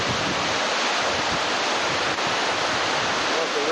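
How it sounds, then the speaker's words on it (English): Steady broadband rush of flowing water at O'Brien Creek, Alaska, a clear-water salmon creek beside a campground, continuous and close with no talk over it. "Look at the creek, it's nice, clear water."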